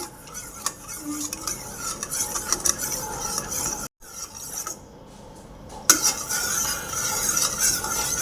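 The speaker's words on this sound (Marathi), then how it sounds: "आणि एक चमचा साखर आणि आता पुन्हा हे पूर्ण साखर वेगळे छान असं हलवून घ्यायचं" A spoon briskly stirs sugar into a French toast egg mixture, with rapid clinking and scraping against the bowl, a brief pause near the middle and then a sharp knock before stirring resumes.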